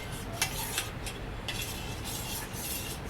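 A spoon stirs chocolate ice cream mix in a pot on a low gas flame, giving soft scraping and a few light metallic clinks over a steady background hiss, with no talking.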